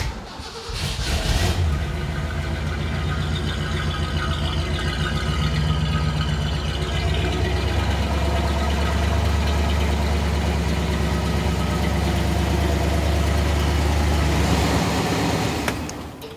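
A 1967 Ford Country Squire station wagon with a 428ci engine and 4-speed, a barn find, runs steadily and loudly as it backs out, a low continuous engine drone that holds for the full stretch before cutting off near the end.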